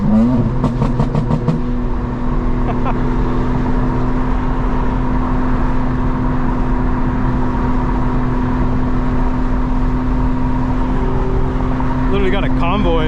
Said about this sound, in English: You can hear the Blackwing and smell it.